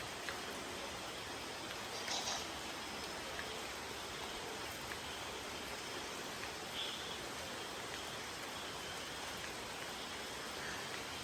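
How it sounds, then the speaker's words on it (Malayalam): Heavy rain falls outside a Kerala home, an even, unbroken hiss that fills the whole stretch with no voices over it. "പുറത്തൊക്കെ നോക്കുമ്പോൾ നല്ല മഴയും കാര്യങ്ങളും ഉണ്ടായിരുന്നു"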